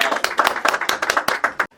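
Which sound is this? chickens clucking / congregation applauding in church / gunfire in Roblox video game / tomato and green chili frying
congregation applauding in church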